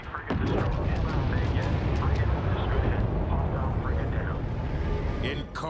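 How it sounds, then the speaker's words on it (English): An enemy frigate explodes during a space battle in the video game Homeworld 3, producing a loud, sustained rumbling blast with crackling bursts that rolls on for several seconds. "Enemy frigate destroyed."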